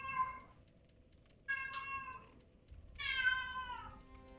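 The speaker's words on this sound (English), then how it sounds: "You might hear my cat screaming in the background" A pet cat yowls three times in a quiet room, drawn-out wailing meows with pauses between, the last one loudest and longest, fairly faint overall.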